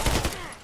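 A single loud gunshot from the video game Contract Wars, a sharp crack whose tail fades quickly.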